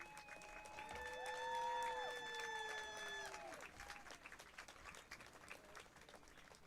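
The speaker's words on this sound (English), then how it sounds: "Give one final round of applause for the 1973 Tri-County Class A champion Union Scotties." Crowd applause at a high school varsity football ceremony honoring the 1973 Tri-County Class A champion Union Scotties, a steady wash of clapping under a sustained tonal horn or music that fades partway through.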